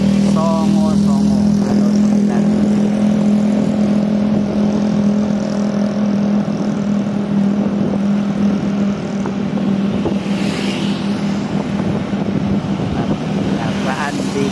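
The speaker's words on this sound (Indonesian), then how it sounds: "Kendaraan di kota Madiun." Traffic flows through a street in Madiun city, with a loud, steady rumble of passing cars and motorbikes and engines revving. Speech is heard faintly over the vehicles.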